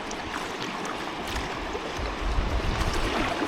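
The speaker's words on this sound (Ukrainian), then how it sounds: "Зараз ще такі маленькі пройдемо. Пороги це завжди весело." Kayak running small river rapids on the Takhini River in the Yukon: steady rushing and splashing water close by throughout, with a slight swell toward the end and no talking.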